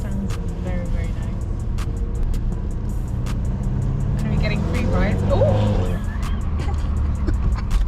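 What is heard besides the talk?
new car driving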